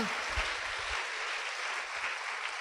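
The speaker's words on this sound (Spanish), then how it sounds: "¿Cuántos damos palmas al Señor por este ministerio SOCPAN?" Church congregation clapping together during a worship service, a dense continuous wash of applause that holds steady at moderate volume without any speech.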